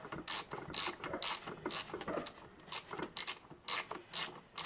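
A ratchet loosening a bottom handle bolt on an old McCulloch Pro Mac 10-10 chainsaw, clicking in a steady series of about nine sharp bursts, close and clear with no talking.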